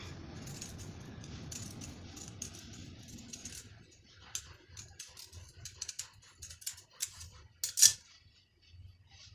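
Scissors cut through blouse fabric in a run of sharp, irregular snips and clicks, close and distinct, following a softer stretch of rustling cloth.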